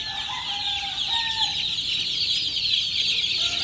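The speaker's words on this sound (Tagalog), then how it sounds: "Ayan mga kakosa, yung mga sisiw natin." Baby chicks from a ninth batch, hatched March 23, peeping in a steady high chorus, some clucking from older fowl mixed in, continuous and fairly close with no talking.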